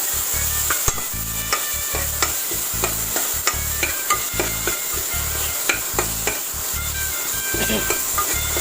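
A ground paste of mint and coriander fries in a pan for chicken biryani, sizzling steadily while a spoon scrapes and stirs in regular strokes, with sharp clicks against the pan.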